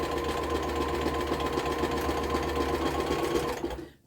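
Sewing machine stitching a cushion runs in a fast, steady mechanical whir close by, cutting off abruptly at the end.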